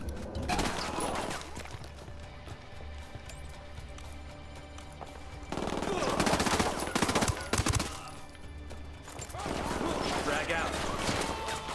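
Gunfire in the tactical shooter game Tom Clancy's Ghost Recon: dense, rapid bursts of automatic weapon fire that swell into louder stretches and then ease off, with heavy battle noise underneath.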